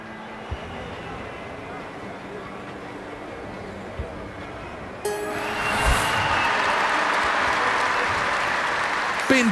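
Crowd applause in the London 2012 video game swells at the midpoint into a steady, broad wash of clapping and cheering from a large stadium audience, following a quieter stretch of ambient crowd murmur.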